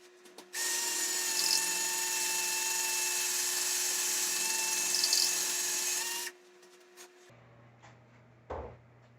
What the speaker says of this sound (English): You need to go back to the drill.